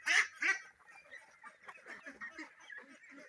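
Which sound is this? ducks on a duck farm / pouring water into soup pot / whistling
ducks on a duck farm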